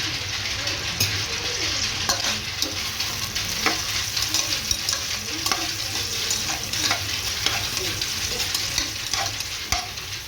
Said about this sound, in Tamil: ஸோ இந்த வெங்காயம் நல்ல ப்ரௌனிஷ் கலரில் ஆகுற மாதிரி வதக்கி விட்டுக்கலாம்